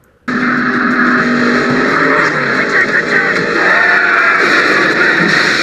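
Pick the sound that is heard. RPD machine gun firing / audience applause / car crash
car crash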